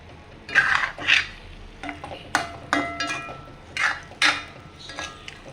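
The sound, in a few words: stirring chicken curry with sweet potato in a pot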